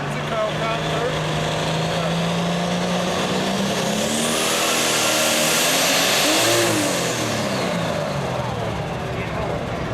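Pulling tractor engine screaming at high revs during a 10,000-pound Pro Stock class tractor pull run, a loud sustained roar with rising and falling pitch near the middle, heard over crowd noise with a commentator talking throughout.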